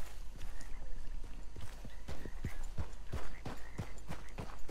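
Horse hooves clip-clop in a steady walking rhythm on the streets of Saint Denis at night in Red Dead Redemption 2, close and clear, with a brief whinny in between and no talking.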